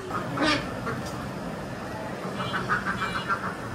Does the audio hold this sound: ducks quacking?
yes